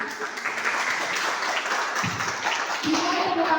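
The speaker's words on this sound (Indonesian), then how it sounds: "Dimulai tepuk tangan kepada kelompok ketiga" Students at a high school class debate competition applaud a team, a continuous wash of clapping of moderate loudness with some low thumps and murmuring mixed in.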